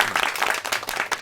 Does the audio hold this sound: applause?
yes